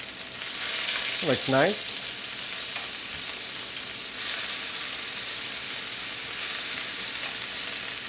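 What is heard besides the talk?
fresh herbs and garlic sizzling and caramelizing in a pan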